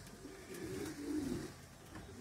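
Pigeons cooing at a Romanian pigeon loft being prepared for a first race, with low soft coos rising and falling against a steady background hiss, moderately close and with no voices.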